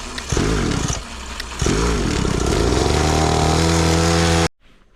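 Motorcycle riding on the road, its close engine revving up through rising gears with loud wind noise, then cutting off abruptly near the end.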